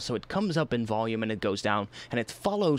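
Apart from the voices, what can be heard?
None of the usual background noises is heard.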